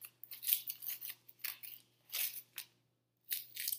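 Scissors snip through paper frozen onto a cold bottle, giving crisp, close cutting bursts in uneven runs with short pauses between.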